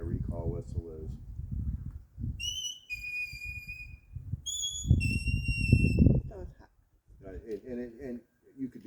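A dog recall whistle sounds in two short sequences of shrill, pulsing tones, each a quick run of stepped pips, separated by a pause, with people talking close by before, between and after.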